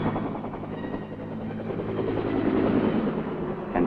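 A Huey military helicopter lifting off and climbing, its steady rotor thump and turbine roar filling the scene as a continuous dense drone that swells slightly toward the end, with no voices.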